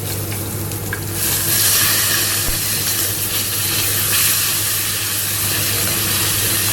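Duck breast searing in a pan in its own rendered fat, a loud, continuous crackling sizzle that swells after the first second and stays dense and hissing throughout, with no voices.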